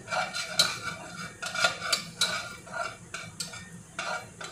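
Onions frying in a pan and stirred with a utensil: steady sizzle with repeated scraping and clinking strokes in a regular rhythm, close and fairly loud, no voices.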